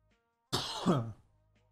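A man breaks off fantasy football draft commentary to give a single harsh cough and throat-clearing bark, close to the microphone, lasting about half a second and then dying into near silence.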